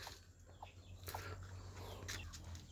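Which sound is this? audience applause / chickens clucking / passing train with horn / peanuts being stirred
chickens clucking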